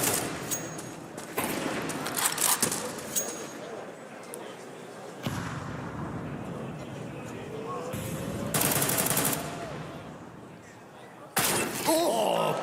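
Counter-Strike gunfire at a pro esports final: rapid automatic bursts and sharp single shots crackle repeatedly with gaps between engagements, loud and close, under an excited commentator's voice.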